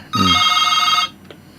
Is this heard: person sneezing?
no